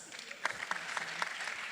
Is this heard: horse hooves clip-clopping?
no